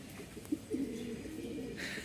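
Pigeons coo softly nearby, a low, throaty rolling call repeated over a faint background hum.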